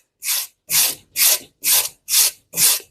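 A steel wire brush is scrubbed over reclaimed wood to strip the soft fibers for a rustic frame: six even, rasping strokes about half a second apart, close and crisp, with brief silences between strokes.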